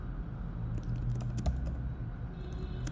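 Typing code on a computer keyboard for a ReactJS component, with steady clusters of key clicks and a few sharper taps over a low background hum, close and moderately quiet, no speech.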